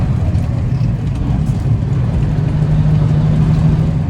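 A Smokey and the Bandit tribute truck's engine hums steadily while driving, a low continuous rumble with road noise and no talking.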